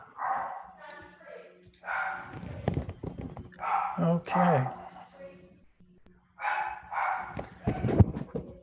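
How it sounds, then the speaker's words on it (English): A dog barks repeatedly in short bursts, fairly close, mixed with whimpering yips, while a person says a word in between. "Who's barking? Oh, my dog."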